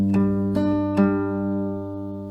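Acoustic guitar picking the F bass melody of a lesson arrangement of Arizona Zervas' "Ever Again", three plucked notes ringing out clearly and sustaining into a fade, with no talk.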